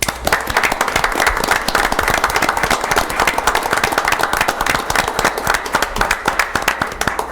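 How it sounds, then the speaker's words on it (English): Audience at a city council meeting gives a sustained round of applause, many hands clapping quickly and evenly in a hall, loud and continuous for several seconds with no talk over it. "if you give them a round of applause for your efforts"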